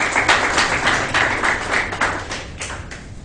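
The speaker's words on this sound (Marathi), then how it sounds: "त्यांच्यासाठी एकदा जोरात टाळ्या वाजा" An audience at a press event claps together in a dense, sustained burst of applause that swells in uneven waves and gradually thins out over a few seconds.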